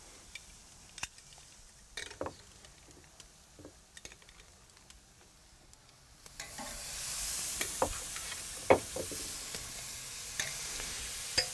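Inch-thick steaks and shrimp go onto a hot two-zone grill: a few light clicks and clatters come first, then a steady sizzle swells up and holds, with occasional sharp pops.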